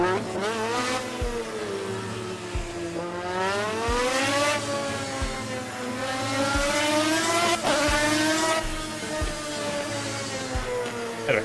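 A Lamborghini racing in the Assetto Corsa video game revs hard and close, its engine tone climbing and falling through repeated gear shifts over about eleven seconds, loud and steady with no talking.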